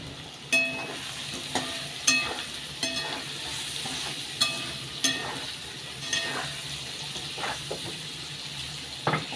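Chicken browning with salt in a pan, its steady sizzle broken by about ten sharp, regular scrapes of a spatula stirring the pieces, close up with no talking.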